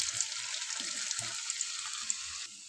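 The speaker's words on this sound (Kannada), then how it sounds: "ಇದನ್ನು ಸಣ್ಣ ಉರಿಯಲ್ಲಿ ಫ್ರೈ ಮಾಡ್ತಾ ಇರಬೇಕು ಅವಾಗ ಚೆನ್ನಾಗಿ ಕ್ರಿಸ್ಪಿ ಕ್ರಿಸ್ಪಿಯಾಗಿ ಬರುತ್ತೆ" French fries frying in oil over a low flame, a soft continuous hissing sizzle, faint and close, steady for a couple of seconds before dropping slightly at the end.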